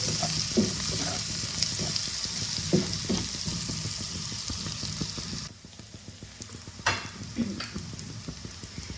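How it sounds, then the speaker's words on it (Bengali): Onions fry with a spoonful of turmeric in a pan for a Bengali fish curry, giving a steady sizzle broken by repeated scraping stirs, then a softer frying hiss with a couple of sharper clatters. "ভালো করে পেঁয়াজটাকে আমি ফ্রাই করে নেব।"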